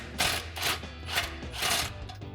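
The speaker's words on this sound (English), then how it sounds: "So we'll take that 16mm socket to remove our first bolt." A ratchet with a 16mm socket loosens a front bumper bolt on a Jeep Gladiator JT, giving several quick rhythmic bursts of clicking up close, with no voices.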